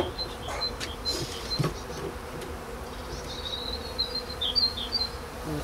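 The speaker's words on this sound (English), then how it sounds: "There's a few bees there, but not a lot." Honey bees hum around an open hive during a spring inspection, a steady close buzzing drone with a few louder passes of single bees near the listener, and no talking.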